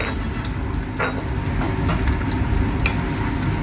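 Sliced garlic frying in a little corn oil for Chinese-style chicken noodles, a steady close sizzle and crackle running throughout with a few brighter pops.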